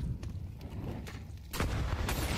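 Rifles crack in short, close bursts during a Counter-Strike match on Inferno, with the fire growing louder and denser partway through.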